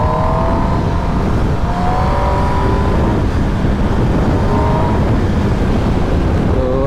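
A superbike being ridden at speed, its engine revving and rising in pitch beneath a loud, constant rush of wind, steady and close throughout.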